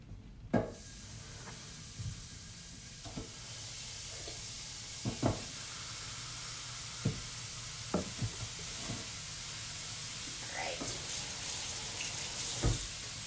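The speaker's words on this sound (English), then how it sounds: "My frying pan's hot, so I'm gonna put the first chicken on." Chicken fries in an electric frying pan with steady sizzling and a constant hiss, broken by occasional sharp crackles and pops spread across the clip.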